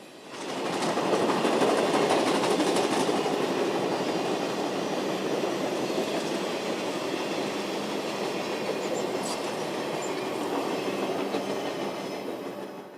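Nickel Plate 765 steam locomotive train rolls past on the old Wabash line near Fort Wayne, Indiana, with a continuous rumble and rhythmic rail clatter, fairly loud and steady throughout, with faint squeals near the start.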